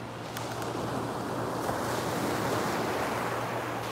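Steady wind and surf rushing along a nearly empty beach, a continuous even roar with microphone buffeting and no voices.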